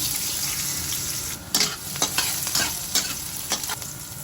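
Garlic sizzling in hot oil in a pan for a pork dish, a steady bright frying hiss with several sharp crackles and stirring scrapes over a few seconds.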